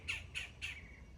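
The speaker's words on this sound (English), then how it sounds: "Do you hear that crow outside?" Three harsh cawing calls from a crow outdoors, evenly spaced and fairly faint as if heard from outside a room.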